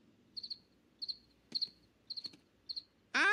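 Cartoon cricket chirping in short, bright triple-pulse bursts about every half second, five chirps in a row, then a sudden loud burst of cartoon sound at the end.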